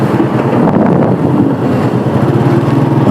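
An auto-rickshaw engine strains hard while stuck in mud on a rain-damaged road, giving a loud, continuous labored drone with a throbbing rhythm close by and no talk.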